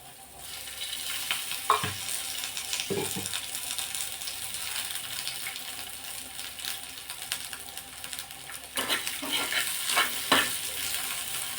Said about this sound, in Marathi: हा एक कांदा सुद्धा यामध्ये टाकायचा आहे तेल टाकायचं आहे कांदा भाजण्यासाठी